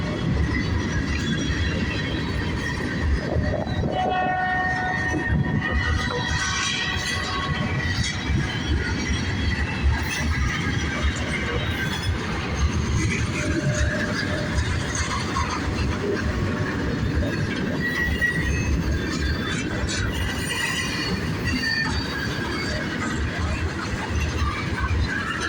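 A Buffalo and Pittsburgh freight train heading toward Punxsutawney, Pennsylvania rolls past with a continuous loud rumble of cars and wheels, and occasional metallic squeals ride over the steady clatter.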